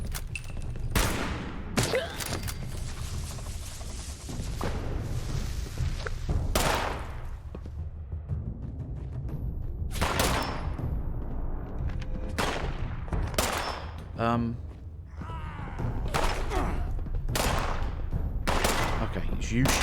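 Repeated bursts of gunfire in the video game Fallout 76 crack out in sharp, loud shots and short volleys scattered across the stretch, over a low rumbling backdrop with someone talking now and then.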